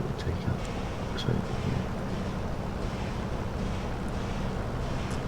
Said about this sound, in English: I probably won't hear you now that my engine's going